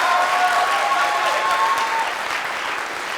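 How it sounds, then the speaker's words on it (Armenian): A studio audience at a Minute To Win It game show claps loudly at first, then the applause slowly tapers to a softer patter, with no one talking. "Ծափարեցրեք"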